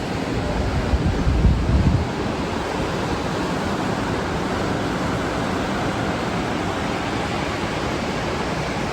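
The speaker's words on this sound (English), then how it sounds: "we're starting this video at the beach" Wind rushes steadily over a beach alongside a broad wash of surf, with a brief deeper gusty thump near the start and constant microphone buffeting.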